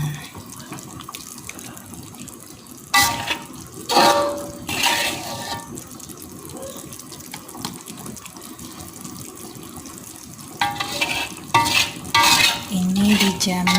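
Sautéed spices are stirred into a pot of beef bone soup, giving wet sloshing and scraping in several short bursts over a soft simmering background.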